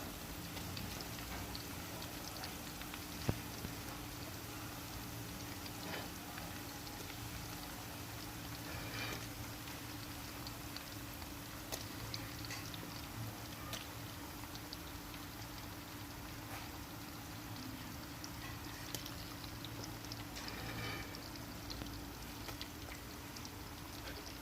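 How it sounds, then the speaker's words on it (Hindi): Chicken koftas frying in ghee with onions in a pan give off a steady, dense sizzle and crackle that holds evenly throughout, with no talking. "अब हम इसमें कोफ्ते डालते जाएंगे।"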